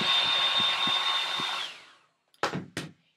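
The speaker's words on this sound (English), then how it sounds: "Use your blow dry again, lightly blow it." A hair dryer blows lightly on a hair weft, a steady close whine with faint clicks underneath that winds down and stops, followed by two short knocks in the quiet.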